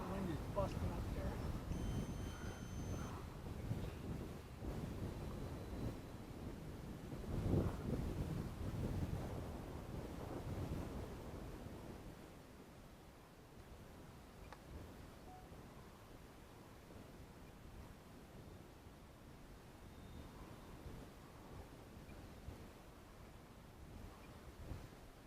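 Gusty wind buffets the microphone at an RC model airfield during a Cessna 182 model flight, a loud broadband rumble that is strongest in the first half and eases later, with voices talking over it.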